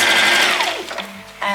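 Sewing machine running a straight stitch across the top row of a Christmas puff quilt, a short close whirring burst that winds down, pauses briefly, then starts again.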